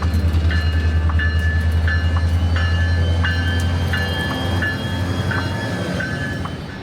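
An Alaska train rumbles steadily nearby with a deep, constant drone, while a high tone chimes repeatedly at a regular pace, slowly fading.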